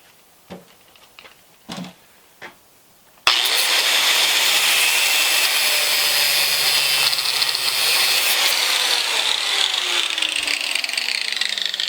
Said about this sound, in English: the first thing I'm going to do is cut the head off of one of the bolts